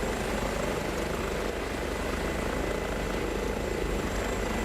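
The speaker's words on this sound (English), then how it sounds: "Gorgeous helicopter." An Airbus H145 emergency medical helicopter flying in Microsoft Flight Simulator gives a steady, dense whir of turbine and rotor. The noise stays constant throughout, with no voices.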